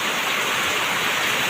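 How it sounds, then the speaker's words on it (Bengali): Heavy rain pours down in a dense, steady hiss during a downpour at a ferry launch, loud and unbroken across the short moment with no voices. "এই যে দেখেন কি পরিমাণ বৃষ্টি,"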